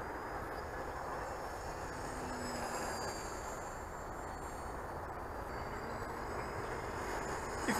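An RC plane with an 1136-size Smash motor and 8.6 prop at full throttle, a steady distant whining drone with a faint pitch-shifting tone held throughout, no talking.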